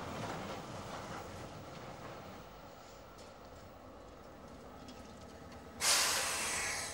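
Tram running on rails in Trondheim, a steady broadband rumble and hiss with faint clatter, moderately close, swelling into a louder hissing rush near the end.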